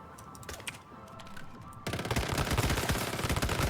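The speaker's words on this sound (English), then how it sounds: "you'll notice just how long we can fire if you have decent aim with your weapon" A weapon in the video game Once Human fires continuously, starting partway through as a dense, loud, rapid stream of shots after a quieter stretch of game sounds.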